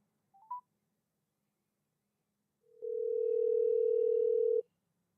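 Short electronic beeps sound on a telephone line, followed by a steady tone after the call is hung up; the tone holds clear and loud for about two seconds, then stops abruptly.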